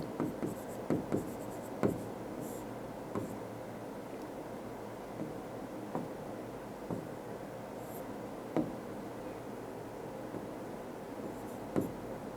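Pen scratching on paper while notes are taken during a lecture on constitutional features, with faint soft taps and strokes recurring irregularly against a steady low room hum.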